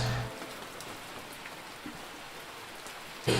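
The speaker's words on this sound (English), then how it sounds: "it is raining for the first time in this VN" Steady rain falls in the Switch visual novel game Together We Live, a soft, even hiss of drops that continues alone for several seconds, with brief tones at the start and end.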